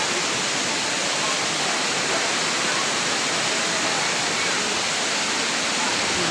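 Parkhan Falls, a waterfall in Abra, roars as a steady, dense rush of falling water up close, loud and unbroken throughout with no clear voices.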